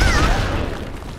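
A single deep boom with a rolling rumble that fades out over about a second, a rocket explosion in the game Worms W.M.D.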